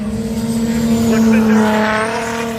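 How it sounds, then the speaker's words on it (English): A blue Nissan S14 drift car at Castle Combe circuit holds a loud, sustained engine drone with tire squeal, while a commentator speaks over it. "Ryan Hughes in the blue S14, sponsored by Garage 500 Speedway Engines, MB Automotive"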